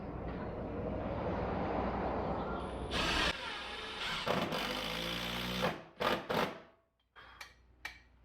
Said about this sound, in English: use our impact to screw in our bottom bolts